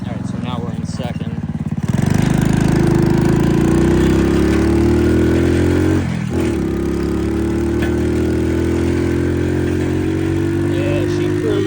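A 4-speed mini chopper motorbike runs loud and close while riding, its engine climbing in pitch as it accelerates through the gears with a brief dip at a shift, and a voice talks over it.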